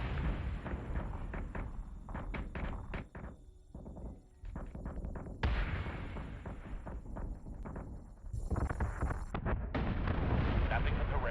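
Warship batteries firing in Battlestar Galactica Deadlock, a dense and continuous roar of rapid cannon blasts and rumbling explosions, loud and layered, with short dips and a steady high whine near the end.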